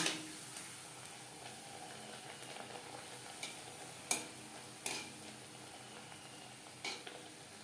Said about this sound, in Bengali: নানপুরি ভাজবো